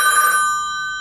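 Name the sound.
telephone ringing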